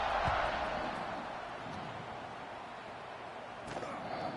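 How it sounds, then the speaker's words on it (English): A football stadium crowd at a Georgia game keeps up a steady, dense buzz after a score, a broad continuous roar with no clear peaks. "this crowd is buzzing after that last score"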